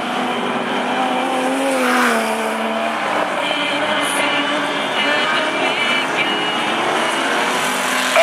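Outlaw sprint sedan race cars roar around Mac's Speedway on the last lap, a loud, sustained engine drone with shifting pitch as cars pass, heard from trackside.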